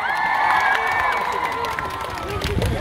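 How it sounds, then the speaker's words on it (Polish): A crowd at an outdoor summer pop concert cheers and applauds the band, a steady wash of claps and voices with a whistle or shout riding on top, continuous throughout. "Brawa dla was."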